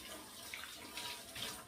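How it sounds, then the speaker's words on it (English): Tap water runs steadily into a kitchen sink while hands are rinsed clean of a coating during soup making, a soft continuous splashing hiss at close range with no voices. "I'm just gonna rinse my hands off."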